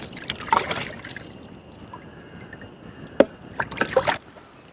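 Raw chicken pieces for shawarma are swished and rinsed by hand in a bowl of water, giving intermittent splashy sloshing bursts with one sharp knock partway through.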